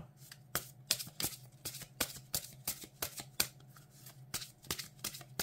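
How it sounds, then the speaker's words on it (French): Perfume oracle cards being shuffled by hand, a quick series of crisp riffling snaps and shuffles, close and fairly soft, without talk. "Donc je vais battre les cartes, puis on va faire un petit tirage."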